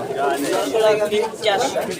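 Domestic pigeons cooing at a weekly pigeon market in Saruliya, soft throaty coos rising and falling near the listener under people talking and bargaining.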